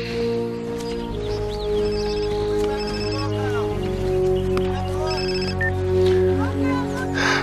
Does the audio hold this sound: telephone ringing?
yes